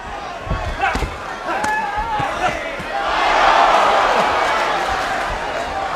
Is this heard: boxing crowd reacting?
yes